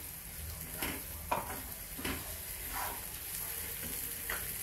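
Coarsely ground chickpeas sautéed with curry masala in a pan for chhole bhaji, a low steady sizzle punctuated by regular spoon strokes and scrapes about every second, close and unaccompanied by speech.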